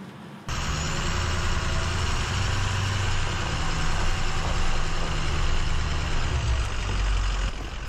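An off-road vehicle's engine idles with the parking brake set, a steady low rumble that starts abruptly and holds close and loud throughout.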